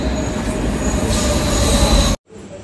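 A train arriving at Vedayapalem station rumbles loudly with a steady metallic squeal of wheels, then the sound cuts off abruptly.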